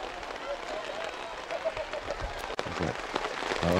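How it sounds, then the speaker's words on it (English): Heavy rain pours onto an outdoor girls' high school soccer field, a dense steady hiss that swells toward the end, with voices talking over it. "As the rain comes down harder."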